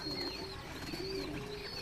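Desi Giribaz pigeons feed together and give soft, low cooing calls with a few thin higher chirps. The calls are quiet and somewhat distant over a faint background hum.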